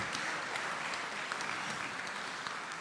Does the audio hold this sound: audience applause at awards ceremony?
yes